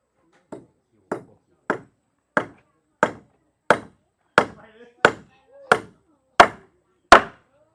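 A hammer drives nails into timber while a house frame is being built, giving about a dozen sharp, regular strikes roughly half a second apart that grow slightly louder, with faint background noise in between.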